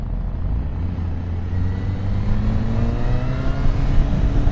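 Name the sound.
Honda CB1000 Hornet motorcycle engine revving through exhaust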